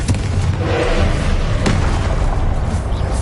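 A Confringo explosion spell in Hogwarts Legacy lets out a loud, dense rumbling blast with a sharp crack about halfway through, filling the whole moment without pause.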